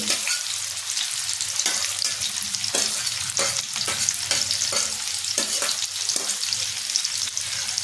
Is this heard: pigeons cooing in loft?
no